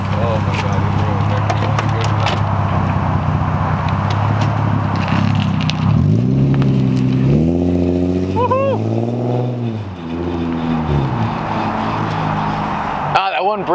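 Nissan G35 with a fire-and-burble exhaust tune, resonated test pipes and a Y-pipe, pulling up the road as the engine drones loudly, its pitch rising and falling under steady talk from people nearby.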